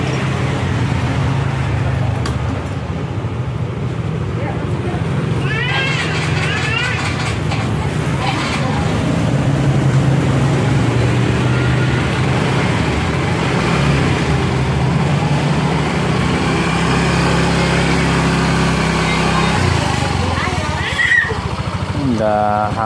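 A Yamaha Mio M3 scooter engine starts and runs steadily at idle after an air filter repair, amid a loud, continuous mechanical rumble, with some clattering noises in the background.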